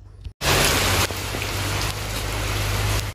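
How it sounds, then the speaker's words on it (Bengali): Heavy rain pours down in a loud, dense, unbroken roar after a brief quiet moment at the start, with no voices present. "প্রচুর পরিমাণে বৃষ্টি হচ্ছে যেহেতু"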